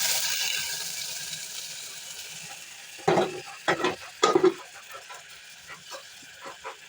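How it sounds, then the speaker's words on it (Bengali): Garlic fries lightly in a pan with a soft, steady sizzle that fades slowly. Several close, brisk bursts of stirring and scraping follow, and no voices are heard. "একটু হালকা ভেজে নিতে হবে এখন রসুনটাকে, বেশি ভাজলে আবার পুড়ে যেতে পারে।"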